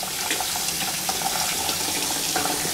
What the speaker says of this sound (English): Then you rinse it off immediately.